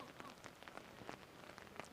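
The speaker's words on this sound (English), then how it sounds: "Plus the rain effect helps." Steady rain falls at a high school rugby third-place match in Wisconsin. It makes a dense, even hiss with scattered drop taps throughout and no voices.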